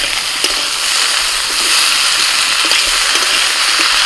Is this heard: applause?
no